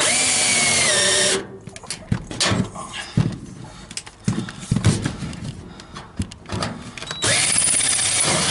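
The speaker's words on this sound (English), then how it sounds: "these are for metal drill bits, for cutting metal as well, but they're crap" A handheld drill with a cheap metal-cutting bit whirs loudly at the start, then stops, followed by irregular knocks and handling clatter before the drill spins up again near the end.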